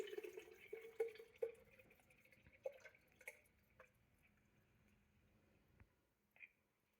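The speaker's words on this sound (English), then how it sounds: "pour it into the jar." Gazpacho soup trickles and drips into a jar, a soft pour with a few splashy drops, close and quiet, gradually thinning out toward the end.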